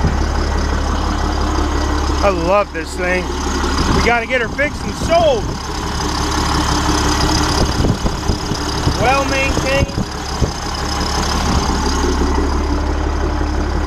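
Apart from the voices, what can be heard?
school bus engine idling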